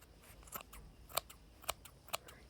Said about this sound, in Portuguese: E assim você vai cortando e vai dando forma.